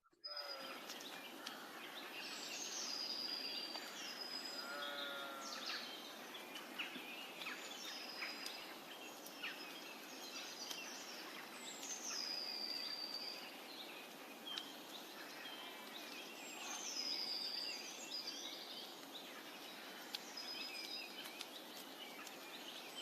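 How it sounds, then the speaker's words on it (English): Crows and jackdaws call repeatedly at a distance as they come in to roost at dusk, their caws and chacks scattered over a steady outdoor hiss throughout. "it sounds like the crows and the jackdaws are coming in to roost"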